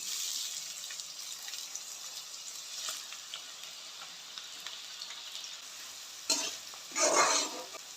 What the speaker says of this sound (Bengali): তেল দিয়ে দেবো পেঁয়াজ কুচিগুলো দিয়ে দেবো